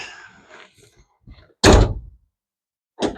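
A car hood slammed shut, one loud heavy thunk followed by a second quieter impact a moment later, preceded by faint scuffling movement in a garage.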